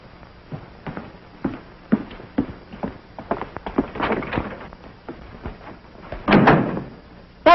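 A series of sharp, irregular knocks, clunks and shuffling footsteps indoors, ending with a louder rattle and thump as a door is handled and closed.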